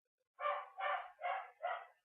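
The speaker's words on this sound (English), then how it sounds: "my dog is barking in the background." A dog barks four times in an even rhythm, each bark short and roughly equal in loudness, heard from another room in a quiet house with no talking over it.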